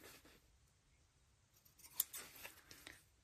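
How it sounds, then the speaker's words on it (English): Sharp scissors snip the fabric of a sewn zippered pouch in a few quick, quiet cuts close by, with faint handling rustle between them and no talking. "And snip a little at the top as well."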